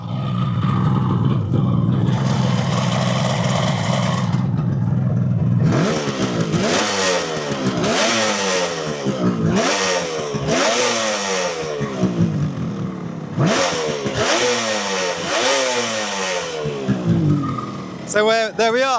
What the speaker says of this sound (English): So ignition's on, fuel's on. There's a bit of heat in there, so we can give it a little rev.